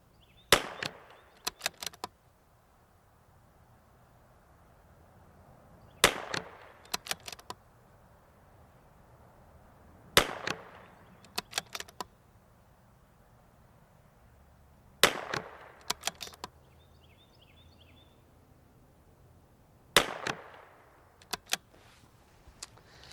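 Five groups of sharp rimfire rifle shots from a CZ 457 with a Lilja barrel at 100 yards in the wind, each a quick cluster of three to four cracks spaced about five seconds apart over a low windy background.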